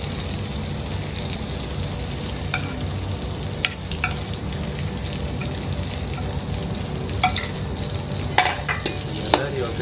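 Garlic, shallots and onion stir-fried in a pan for a water spinach dish, a continuous close sizzle broken by repeated sharp spatula scrapes and clacks through the stretch, with no talk.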